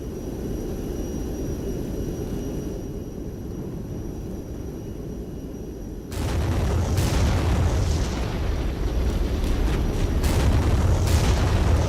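Illumination artillery fired in the tank game Regiments, heard as a low rumbling barrage that suddenly grows louder and denser, with sharp booms and blasts layered over steady engine drone, no voices.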